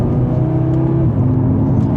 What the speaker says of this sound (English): We have a few pops in that exhaust on the downshifts there.